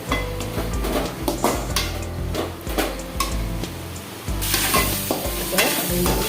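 Vegetables and mushrooms sautéing with salt in a pan for a kalan dish, a busy crackling sizzle with repeated stirring scrapes and clinks, steady and close throughout.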